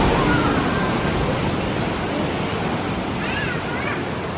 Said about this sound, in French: Mais les vagues, elles sont un peu faibles.